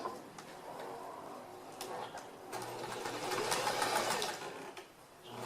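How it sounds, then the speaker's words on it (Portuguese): Sewing machine running a wide-stitch topstitch seam across fabric for a bread basket, a steady close whir with brief pauses and speed changes, no talking. "Então, passo uma costura de ponto largo."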